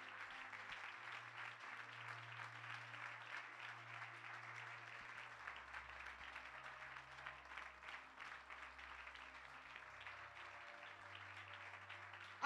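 Church congregation at a Sunday service clapping and cheering in acclamation of the Lord, a continuous faint wash of applause with a low sustained hum underneath.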